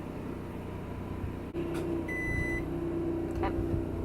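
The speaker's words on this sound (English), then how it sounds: "And then we'll wait for the microwave to beep." A steady electronic beep sounds twice from a microwave in a 2020 Forest River Sunseeker 2500 motorhome, each short tone ringing over a low, constant engine-like hum in the background.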